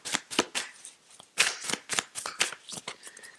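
Tarot cards being shuffled close up in quick, crisp bursts of riffling and flicking, broken by short pauses, with no voices.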